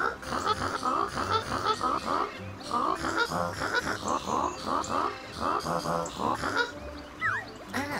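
A duck character in the video game Yooka-Laylee quacks in a long run of honking, nasal calls that repeat in quick bursts for about eight seconds, loud and close, with no one talking over them.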